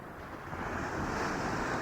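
Ocean waves breaking and curling over a shallow shore at a beach, a steady loud wash of surf with wind noise across the microphone, no voices.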